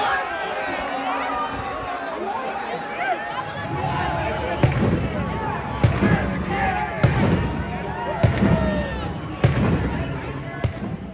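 Celebration cannons fire at a Tampa Bay Buccaneers draft party as the pick is announced, a series of sharp booms spaced a second or two apart, over a dense, murmuring crowd of fans.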